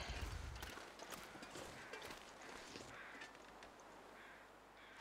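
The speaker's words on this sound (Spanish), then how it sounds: "Esos cuervos me han cagado" Crows caw in the ambient soundscape of the survival video game The Long Dark, several brief calls scattered over a steady wind-like hiss, fairly faint and without speech.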